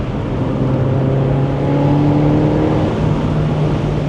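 A Mini Roadster JCW engine drones steadily and rises in pitch as it revs through a gear, heard from inside the car with road rumble beneath and no talking.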